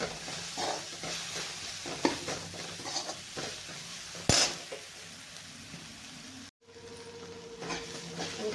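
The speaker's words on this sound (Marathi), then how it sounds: "आणि हे एक चमचा लाल तिखट टाकणार आहे मी चांगलं परतून घ्यायचं आपल्याला" A lentil and onion masala with red chilli powder sautés in a pan with a soft, steady sizzle. Occasional utensil scrapes and knocks break in, and there is a short sharp clack partway through.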